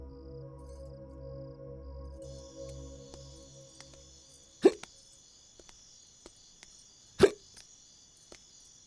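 Two sharp, isolated hiccups from a person, several seconds apart, close and distinct against a quiet background with a faint hum and tone.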